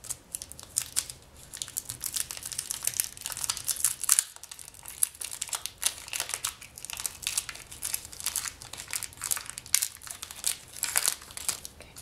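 A polymer clay packet being opened, giving continuous close crinkling and rustling of plastic wrapper with sharp bursts throughout, alone with no talk.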